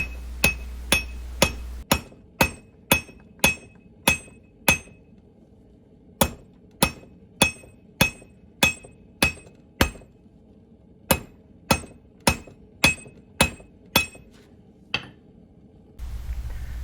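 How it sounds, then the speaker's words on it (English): A blacksmith hammers steel on an anvil while forging a wall hook: sharp ringing metallic strikes in a steady rhythm, about two per second, in several runs separated by short pauses, close and loud with no talking. "we're just going to put that in the center of the anvil and hammer everything back down into itself"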